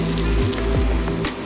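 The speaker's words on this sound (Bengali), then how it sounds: "ভেজে রাখা মাছের মাথাগুলো আমি এর মধ্যে মিশিয়ে নেব। এবারে ভালো করে আমি এটা কষিয়ে নেব।" Fried fish heads sautéed and stirred in a pan for a moong dal dish, giving a steady close sizzle with a few scraping stirs of the spatula.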